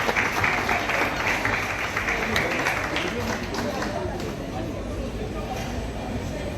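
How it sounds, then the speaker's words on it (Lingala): An audience at an evening karaoke show claps and cheers in a steady, dense wash of applause that carries through the whole stretch as a performer is welcomed on stage. "Sous vos applaudissements, Tantine Linda."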